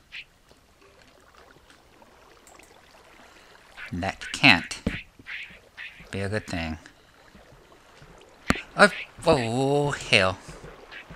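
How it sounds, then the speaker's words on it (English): A growling, demonic duck-like creature quacks in a video game, with harsh bursts around the middle and end, mixed with someone talking. "Sounds like some sort of demonic duck."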